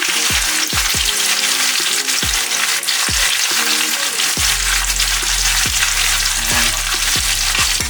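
A skinless mahi mahi fillet fries in butter and oil in a pan over medium-high heat, giving a steady loud sizzle. A spatula or utensil knocks against the pan in repeated sharp taps, and one short spoken word comes near the start.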